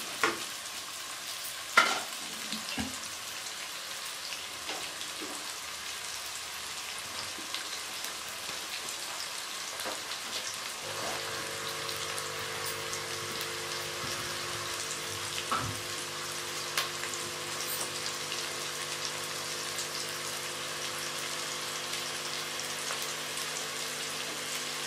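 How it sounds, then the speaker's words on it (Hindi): Sliced onions fry in a pan for a fish yogurt curry with peas, giving a steady, moderately close sizzle over 25 seconds, with a few stirring knocks early on and a low hum entering partway through. "अब हम इसमें प्याज को हल्का ब्राउन करेंगे, इसको इसमें पकाएंगे।"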